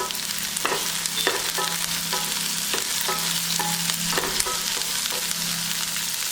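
Onion, chillies and curry leaves sauté in hot oil for poori masala, giving a loud, continuous sizzle broken by repeated sharp scrapes and clinks of stirring.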